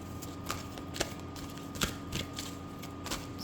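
A Halloween Oracle tarot deck is shuffled by hand, giving soft papery riffles and flutters with a few crisp card slaps. The sound is close and fairly quiet over a faint background hum.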